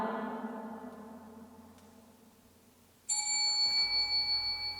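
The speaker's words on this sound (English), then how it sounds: "Do you want us to go in that room where you're ringing the bell?" A bell's fading ring decays, then a bright, sharp new strike rings out near the end, clear and close with a lingering metallic tone, heard without talking.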